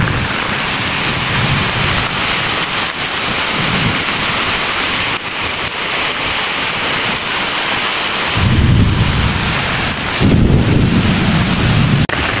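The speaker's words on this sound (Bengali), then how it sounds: "বাট এসে বৃষ্টি পেয়ে গেলাম" Heavy rain pours steadily at Ramsagar, a large man-made lake in Dinajpur. Rolling thunder swells up twice toward the end over the constant loud hiss of the downpour.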